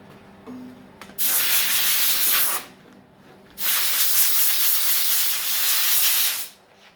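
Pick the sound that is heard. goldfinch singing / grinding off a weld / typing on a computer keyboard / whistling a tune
grinding off a weld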